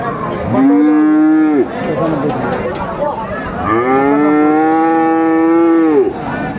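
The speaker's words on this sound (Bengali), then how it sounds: "ষাঁড় বাচ্চা দেখছিলাম আমরা এখানে" Bull calves of Friesian and cross breeds moo loudly at Aftabganj cattle market, two long drawn-out calls close by, with crowd chatter and bargaining voices filling the gaps between them.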